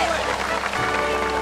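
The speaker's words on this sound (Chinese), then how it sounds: "掌声鼓励一下" A studio audience on a TV variety game show held in Qingshui, Taichung, applauds with a dense wash of clapping under a host's voice.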